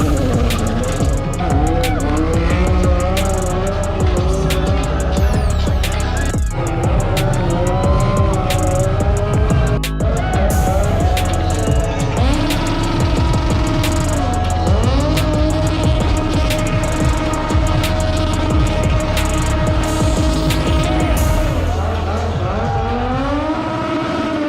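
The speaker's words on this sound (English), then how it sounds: "And then after that, they did a donut competition." Formula 1 cars perform donuts at a Hollywood street demo, their engines screaming at high revs with rising and falling pitch and tires squealing continuously, loud and sustained, with crowd noise underneath.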